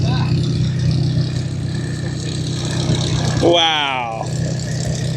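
An RV-7 light airplane taxiing in an airshow parade, its engine a steady mid-pitched drone close by, while a voice briefly exclaims over it.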